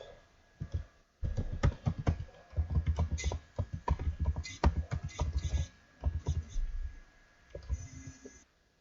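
Quick keyboard keystrokes come in irregular bursts of sharp clicks with brief pauses, close and fairly quiet, as a password is typed in a video game.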